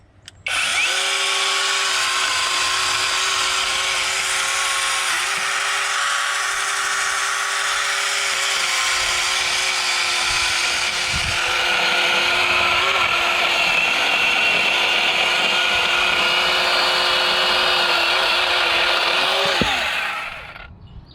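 A Goldsea 21V electric 8-inch chainsaw cuts through a proper piece of firewood, its motor a loud, close, continuous high whine that holds steady for about twenty seconds before stopping abruptly.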